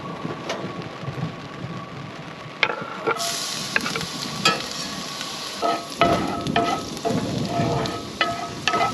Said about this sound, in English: I'm cooking the shrimp first.